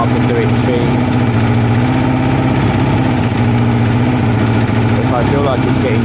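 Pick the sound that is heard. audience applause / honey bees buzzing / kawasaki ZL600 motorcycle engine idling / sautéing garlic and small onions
kawasaki ZL600 motorcycle engine idling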